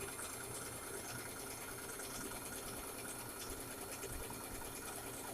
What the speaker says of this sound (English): You're going to sew the circle part of the 2 pieces together like this.